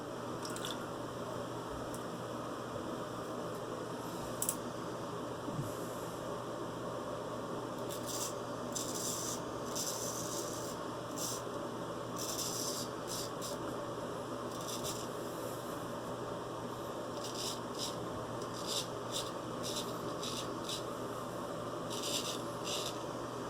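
Close, crisp scraping of a full hollow vintage Finedge Magnetic straight razor across stubble in repeated short strokes, a dry rasping crackle over faint steady background hum.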